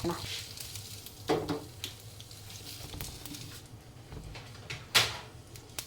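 Hot curry leaf tempering sizzles as it is mixed into rasam, a soft frying hiss with a few clinks of a spoon or pot and a brief sharper burst near the end, no voices.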